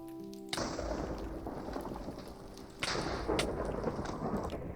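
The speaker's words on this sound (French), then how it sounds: "Ah si, en fait, c'est l'éclair." Thunder after a lightning strike in a Minecraft world, a sudden broadband crack followed by a rumbling roll, then a second loud crack and rumble about two seconds later, steady and alone without talk.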